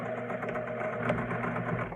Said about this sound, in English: going to try to sew as close as you can to the stitches from sewing the rectangle around the rectangle opening